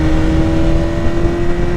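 A 2026 BMW M1000RR fitted with a full Akrapovic exhaust and a BT Moto tune drones loudly and steadily at a held engine speed, close up and continuous with no talk over it.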